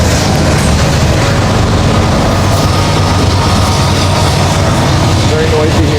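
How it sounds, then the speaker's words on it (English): Train passing nearby at a ranch, a loud continuous dense rumble and roar filling the whole stretch, with a voice faintly under the noise. "Very noisy here. See the train."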